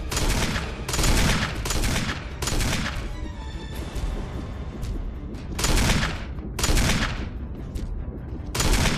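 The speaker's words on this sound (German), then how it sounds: "Ich schieß dir auch gern noch ein bisschen." Loud, close gunfire from Resident Evil HD Remaster comes in repeated bursts of blasts, separated by brief quieter gaps filled with game effects.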